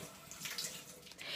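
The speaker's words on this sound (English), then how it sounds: "You're just going to rinse in mild soapy water, and then you're going to dry them off" Toe separators are rinsed in mild soapy water, a faint continuous splashing and running-water wash close by, quiet and steady with small swishes.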